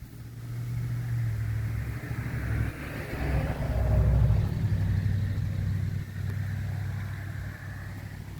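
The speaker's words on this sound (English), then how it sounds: "Sorry about all the road noise." Steady low road rumble and engine drone inside a moving big-block truck, loud and continuous, swelling slightly midway, with no talking.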